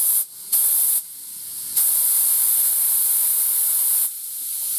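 Air hisses loudly into a pocket bike tire tube, a steady spray-like rush broken by a few short pauses, close and alone.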